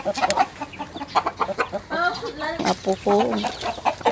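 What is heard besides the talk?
chickens clucking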